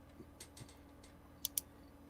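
Quiet, sparse clicks of a computer keyboard are heard at a distance over a low background hum, including two sharper taps near the end, with no speech.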